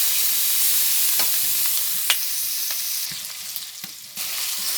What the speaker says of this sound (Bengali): সেই মাছ ভাজা তেলের ভিতরে পেঁয়াজ কুচি কাঁচামরিচ কুচি দেয়া হয়েছে এখন এগুলো হালকা বাদামি কালার করে ভেজে নেওয়া হইতেছে